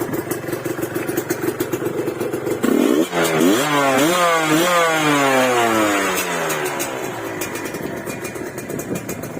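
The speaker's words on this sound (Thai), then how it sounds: "ก็ผ่าเสียงใสๆเลยอ่ะแล้วผมเบิ้ลรอบแรงๆให้ฟัง" A Honda Dash New motorcycle engine idles with a rapid putter, then revs hard several times in rising and falling surges before settling back to a loud idle.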